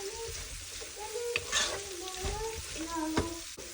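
Shallots sauté in oil over a medium flame for a Kerala-style sesame curry, with a close, steady sizzle broken by a few sharp stirring taps and a faint voice humming underneath.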